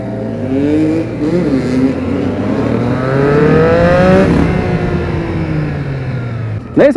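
A modified Buell motorcycle revs hard on a street ride in Curitiba, its engine pitch rising and falling through loud, sweeping throttle blips close by, with voices faintly audible underneath.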